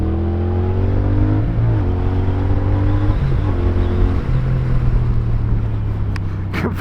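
A CFMoto 450CL-C motorcycle engine pulls hard through the gears on a test ride, revving up, dipping briefly at each shift and climbing again, loud and close throughout with steady wind noise and no talking.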